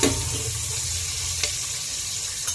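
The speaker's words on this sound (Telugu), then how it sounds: "వేగుతున్నాయి కదా ఇవన్నీ" Spices, green chillies and other ingredients frying in hot oil for prawn biryani, a steady close broadband sizzle and crackle running throughout with a couple of brief stirring clinks.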